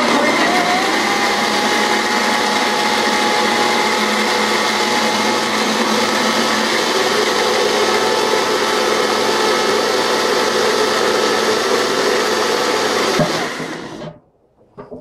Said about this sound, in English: And I'll see you at the blender.